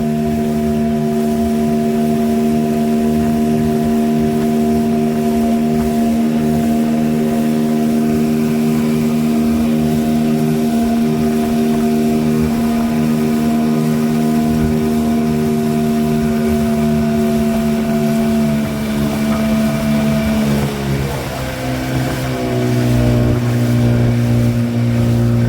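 A fishing boat's engine drones steadily, then eases off and drops in pitch toward a low idle while nearing an anchoring spot, loud and continuous with no talk.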